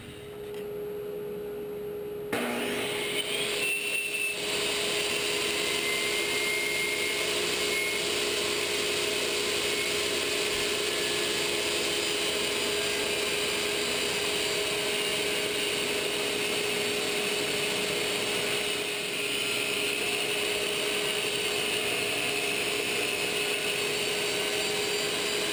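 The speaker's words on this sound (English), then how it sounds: "So set up my table saw using my table here as a run out" A table saw rips cedar into strips for stand-up paddleboard gunwales, a steady loud whine and rushing cut that runs continuously for the whole stretch after a brief quieter start, with no talking.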